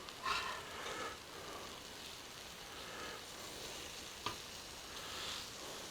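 Thin chicken cutlets fry on a Blackstone griddle with a soft, steady sizzle that hisses on without a break, with one small sharp pop partway through and no voices.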